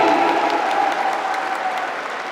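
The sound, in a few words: audience applause at an anniversary event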